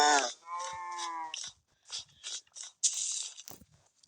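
Cattle mooing in a wintry survival video game, a loud drawn-out low moo followed by a string of shorter bursts of game sounds and clatter.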